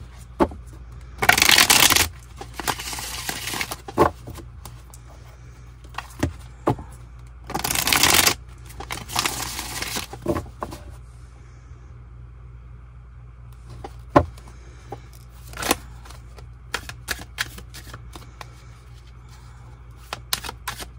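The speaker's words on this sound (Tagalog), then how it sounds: "Balasahin lang po natin ang ating baraha." A deck of cards is shuffled in repeated quick riffles, each a loud crisp rattling burst of a second or so, separated by softer taps and handling clicks over about twenty seconds, with no talk.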